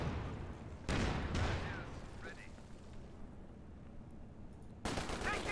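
Machine gun fire from the game Company of Heroes 2 plays out in a trench battle as loud booming bursts, then a lull, then another burst, with game voices faintly mixed in.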